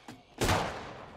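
Gunfire in the Apex Legends video game, a sudden loud burst of shots that rings out and decays over about a second, with no talking.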